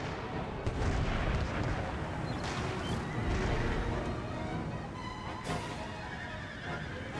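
A cannon fires during a battle in the video game Empire: Total War, with booming shots and rumbling battlefield noise, faint horse sounds mixed into the din.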